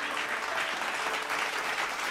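A church congregation breaks into applause, a continuous even wash of many hands clapping together at moderate volume with no talk over it.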